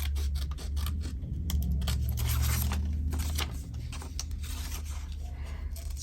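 Steady crisp snipping and rustling of scissors cutting through paper, close up and continuous, with no talking.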